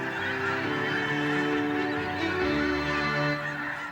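Migratory water birds calling in a marsh, their loud overlapping honks and nasal cries forming a busy flock chorus that carries on without pause, close and continuous.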